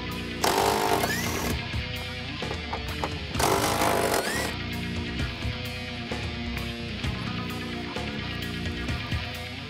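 Power tool, likely an impact wrench, removing the shock-body-to-body bolts on a 2015–2023 Mustang GT during a spring install; two loud close bursts of whirring over a steady, busy workshop background.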